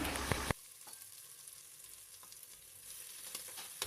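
Onions and tomatoes sauté in a pan, giving a steady soft sizzle with a few light stirring scrapes after a louder opening burst, close and fairly quiet, with no voices.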